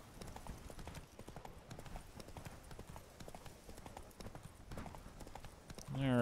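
Horse hooves clip-clopping steadily in The Witcher 3: Wild Hunt video game, a continuous trotting rhythm over a busy ambient game soundscape, fairly quiet, with no speech audible.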